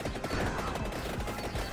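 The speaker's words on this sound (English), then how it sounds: "Oh, the fireworks." Fireworks weapon in the video game Vampire Survivors goes off as a dense, continuous crackle of rapid overlapping explosions, loud and busy throughout with no talking.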